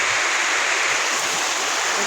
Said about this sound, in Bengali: দেখছেন কি বৃষ্টি হইতেছে